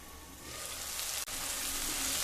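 Upma ingredients with ginger sizzling and frying in a pan on low to medium heat, a steady close hiss that swells after the first half second with a brief stir-like dip midway.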